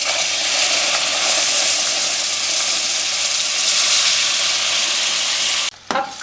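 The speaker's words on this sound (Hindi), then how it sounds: "अब चाशनी को हम इसमें शामिल करेंगे।" Sugar syrup poured into hot ghee and flour in a wok for atta halwa sets off a loud, steady, roaring sizzle that continues without a break until a brief stir near the end.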